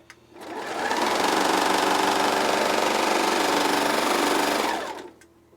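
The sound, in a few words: serger sewing machine stitching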